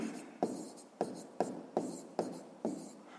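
A pen moves on paper during a sixth-grade maths exercise, soft quick scratching strokes about every half second, quiet and close, with no voice over them.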